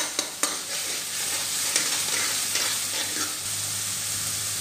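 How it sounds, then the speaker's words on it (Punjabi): Soya keema with spices being stirred and roasted in a pan: a steady sizzle with scraping stirring strokes, close and continuous, with no talk. "ਇਹਨੂੰ ਭੁੰਨ ਲੈਣਾ ਹੋਰ ਅੱਛੀ ਤਰ੍ਹਾਂ, ਜਦ ਤੱਕ ਕਿ ਆਪਣਾ ਸਾਰੇ ਮਸਾਲੇ ਇੱਕ ਦੂਜੇ ਦੇ ਵਿੱਚ ਮਿਕਸ ਨਹੀਂ ਹੋ ਜਾਂਦੇ"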